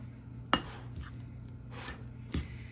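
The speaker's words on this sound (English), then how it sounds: "I'm going to pour this in and mix it just until it's incorporated" Buttermilk biscuit dough is mixed in a bowl, a few sharp scraping knocks of a utensil against the bowl with soft rubbing strokes between them, close and quiet.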